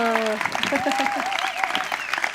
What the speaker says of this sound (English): Let's first have an applause for Juliana.